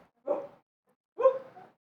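A dog gives two short, close barks about a second apart, each sharp and brief, with silence around them.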